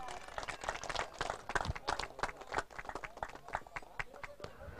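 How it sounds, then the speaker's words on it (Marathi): Audience clapping at a prize distribution ceremony for a 2024 sports tournament in Palatpada, a dense run of overlapping hand claps with some louder sharp claps, steady throughout. "टाळ्या झाला पाहिजेत"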